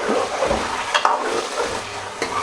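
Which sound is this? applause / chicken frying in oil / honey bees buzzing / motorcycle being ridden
chicken frying in oil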